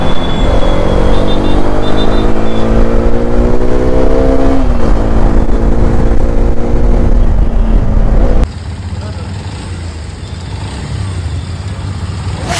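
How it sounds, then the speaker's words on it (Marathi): A new Hero Xpulse 210 motorcycle rides along with a loud, close engine drone, rising in pitch as it accelerates through the gears, then cutting to a quieter, rougher running sound with wind noise. "फायनली मंडळी, आपली ब्रँड न्यू बाईक एक्सपल्स 210 आपल्या घरी आलेली आहे."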